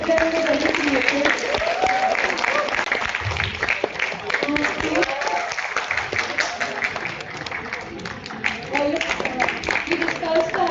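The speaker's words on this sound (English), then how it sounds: "And all of them deserve a round of applause." Audience applause at a National Pharmacovigilance Week 2022 poster event, steady clapping throughout under overlapping talk, moderately loud and continuous.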